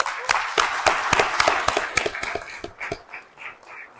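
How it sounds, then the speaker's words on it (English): Scattered, sharp claps ring out at an indoor hockey tournament as a round of applause goes to the sponsors, a handful of close, uneven hand claps that thin out toward the end. "I think a round of applause"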